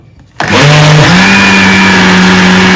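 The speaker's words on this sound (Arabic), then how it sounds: "ضروري كتضربوا وكتوقفوا باش ما كيخسرش لكم الخلاط ديالكم" An electric mixer beating semolina batter suddenly whirs to life, a loud steady electric hum with a brief pitch dip early on, running alone without talk.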